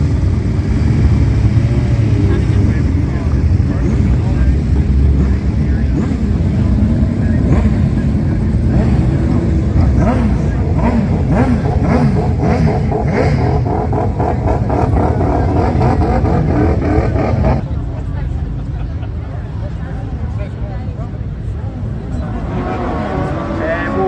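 Speedway race cars roar around a track on opening night, a loud continuous engine drone with revving swells under a commentator's voice, easing slightly near the end.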